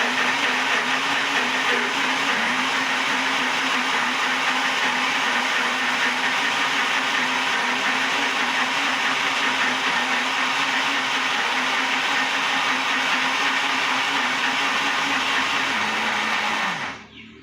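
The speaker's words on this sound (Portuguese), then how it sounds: "eu vou bater esses ingredientes aqui no liquidificador" A blender whirs continuously at close range, a steady motor hum mixing carrot cake batter of egg, sugar and oil for most of the clip before winding down at the end.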